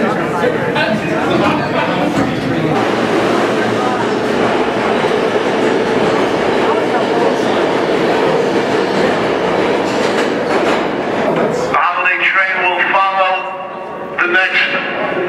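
An R32 New York subway train rides along with a loud, continuous rumble and wheel clatter, and the noise shifts near the end. Voices and announcements can be heard under the train noise.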